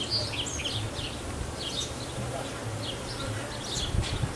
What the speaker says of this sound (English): Okay, Crush, come on, get out of there, little bee